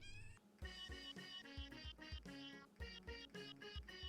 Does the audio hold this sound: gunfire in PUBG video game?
no